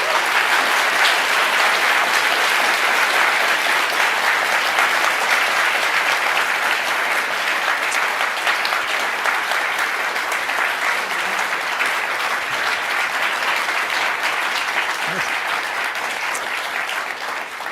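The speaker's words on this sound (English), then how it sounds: "give these guys a round of applause" Sustained audience applause fills a hall at a free speech event at Clemson, a dense, steady wash of clapping with no talk over it, holding at an even loudness throughout.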